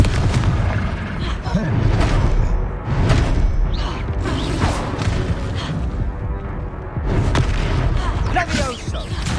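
Booming spell blasts from the Confringo blasting curse in the Hogwarts Legacy video game, a dense run of loud explosive impacts and crackling bursts layered over continuous battle noise and music, with voices shouting in game.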